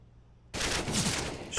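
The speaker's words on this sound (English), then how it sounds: "Shots whiz past him." Counter-Strike gunfire during a match, heard as a sudden loud, dense volley of rapid shots that starts abruptly and continues to the end, with no talk.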